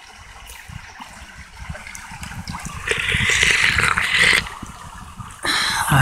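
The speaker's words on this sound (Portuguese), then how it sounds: "A água é esse barulho" Water of the Córrego do Manoel Gomes stream in Quirinópolis, a steady close rushing and gurgling flow that swells louder midway, with no talk.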